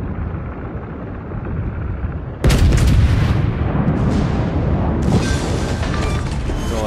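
Warship naval guns firing in a World of Warships battle: a steady rumbling background, then a sudden loud booming salvo followed by a second burst of cannon fire with rolling reverberation.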